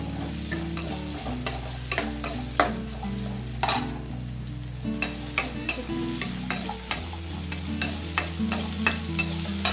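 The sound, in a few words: sautéing shallots and curry leaves in pan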